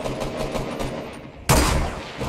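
Video-game minigun fire erupts in a dense, sustained burst of rapid shots, loud and close, following a stretch of lighter firing in the background.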